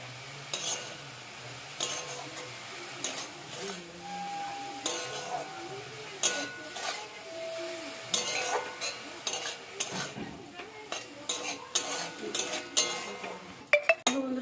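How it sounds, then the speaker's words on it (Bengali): Bathua greens being stirred in a pan with salt, a spatula clinking and scraping against metal in irregular bursts over a faint sizzle, close by. "শাকটাকে একটু নেড়ে দেবো"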